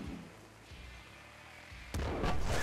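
A plasma weapon firing in the roguelike shooter Nuclear Throne: a sudden bright blast near the end, with a few softer thuds and pops before it.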